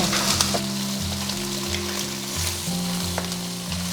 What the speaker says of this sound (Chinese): 油热过后，我们就把这个鱼头鱼骨放上去，给它保持中大火煎